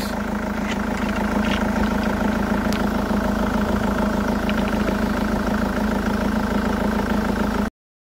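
A diesel engine idles steadily during an injector leak-off test, a continuous low rumbling hum with an even mechanical vibration that holds close and constant throughout, with no talking.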